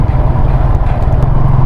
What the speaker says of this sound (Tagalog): Dagko ay mga dump truck na.